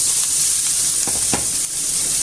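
Onion and garlic frying in a pan make a loud, dense sizzle throughout, close up, with a couple of soft stirring knocks partway through and no speech.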